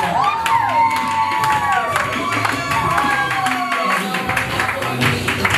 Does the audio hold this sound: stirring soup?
no